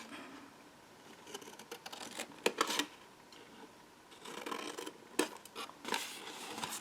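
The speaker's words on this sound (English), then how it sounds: "Cut these 2 tabs out." Scissors snip tabs out of a paper box template in short close bursts of cutting and rustling paper, with quiet pauses between and no talking.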